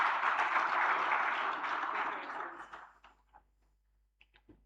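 A seated audience at an orientation session gives sustained applause that rolls on thickly at first, then thins and fades out after about three seconds into a few scattered claps and soft room noises.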